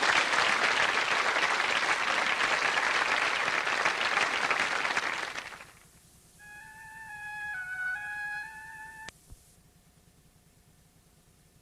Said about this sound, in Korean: 출연 학생 여러분들 위해서 격려의 박수를 보내주시기 바랍니다